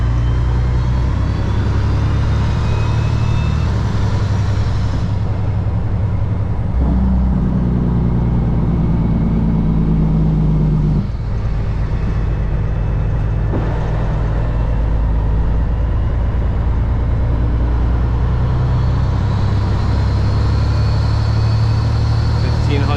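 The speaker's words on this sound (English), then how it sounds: "We're gonna upshift 1, 2 into the gear." A Kenworth W900 truck with an Eaton Fuller 18-speed transmission upshifts, its loud close diesel engine dropping and changing pitch between gears with clunks of the shift, a rumbling cab drone throughout and someone talking over it.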